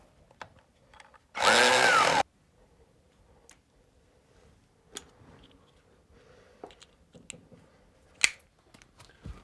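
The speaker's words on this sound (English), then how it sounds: "drill the holes, push in the raw plugs and screw in the bracket" A power drill whirs loudly for under a second while drilling holes for a roller blind bracket, followed by scattered light clicks and taps of wall plugs and the bracket being handled and fitted.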